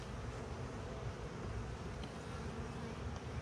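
Honeybees swarm densely inside an opened hive during an inspection, a continuous low, close buzz with no talking.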